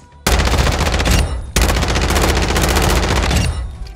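Rapid automatic gunfire from an optic-equipped rifle in Warzone 2, two loud sustained bursts with a short pause between them, close and dominant, ending in a fading echo.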